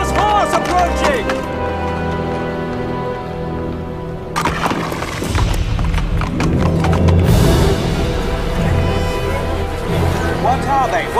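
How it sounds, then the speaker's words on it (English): A riderless horse gallops closer with loud, steady hoofbeats and sharp whinnies, the clatter swelling as it approaches. "Riderless horse approaching!"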